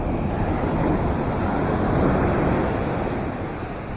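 Heavy surf pounds the shore during Typhoon Enteng, a loud, continuous broadband roar of crashing sea waves with wind buffeting the microphone, steady throughout.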